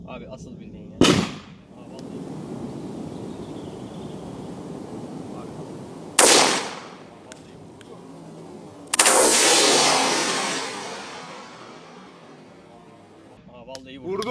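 A pump-action shotgun fires an arrow outdoors, giving three sharp loud reports spaced several seconds apart, the last with a long ringing decay, between quieter background stretches.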